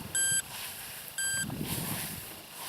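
Two short high electronic beeps from an Amzdeal Smart Hunter metal detector, about a second apart, close over outdoor hiss and faint rustling.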